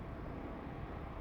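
A British Airways airliner from Dusseldorf bound for Heathrow passes over London City Airport. Its engines form a faint, distant, steady broadband roar with no voices.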